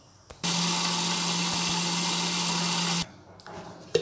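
A mixer grinder blends mango pulp with sugar and milk, a steady, loud motor whine running for about two and a half seconds before stopping abruptly, followed by faint handling noises and a small clatter.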